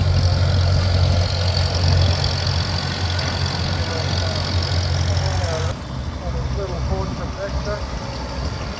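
A dressed-up Farmall A tractor at a vintage machinery rally runs with a steady low engine drone, close by, while people talk nearby and a second engine sound takes over partway through.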